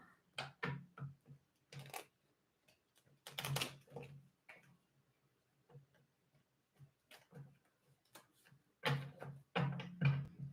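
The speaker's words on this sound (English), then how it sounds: "One more shuffle." A deck of tarot cards shuffled by hand during a reading, making soft, irregular flicks, taps and short riffling bursts; quiet and close, separated by brief pauses.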